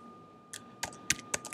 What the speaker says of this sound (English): I can go ahead and type in